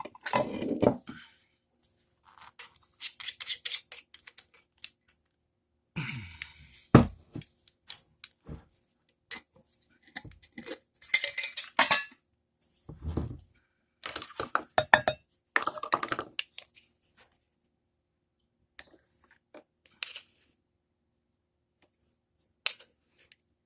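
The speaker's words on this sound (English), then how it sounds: "somewhere on here I have a fork. I'm going to mix that up a little bit" A fork clinks and scrapes against a bowl while stirring low-sodium corn muffin batter, in close, irregular bursts of tapping separated by quiet gaps.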